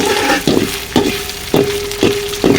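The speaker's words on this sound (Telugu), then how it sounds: "బొంబడీలు ముక్కలుగా చేసుకొని శుభ్రంగా కడిగేసుకొని ఇలా నూనెలో ఫ్రై చేసుకోవాలండి" Pieces of Bombay duck fish fry in hot oil with a steady sizzle, broken roughly every half second by louder bursts as the pieces are stirred or moved in the pan.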